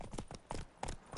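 Horse hooves clopping on a road in the video game The Witcher 3, a steady series of hoof strikes at moderate level, with no one speaking during it.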